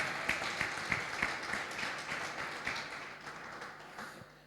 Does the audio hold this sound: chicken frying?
no